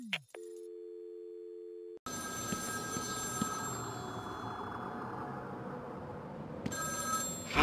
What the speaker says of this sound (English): Find another telephone